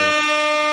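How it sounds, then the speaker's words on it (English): An air horn sound effect blares as one loud, sustained blast lasting under a second, played during a live sports talk stream. "Let's actually get some air horns for him."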